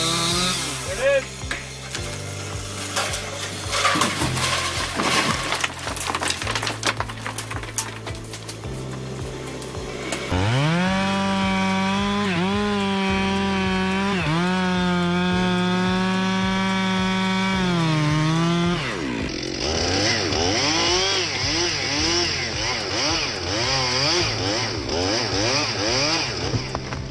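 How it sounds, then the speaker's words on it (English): A chainsaw cuts into a massive tree, its engine snarling loudly and shifting pitch as the load changes, rising and dropping through long sustained revs with brief pauses between passes. "The man was sawing down a massive tree"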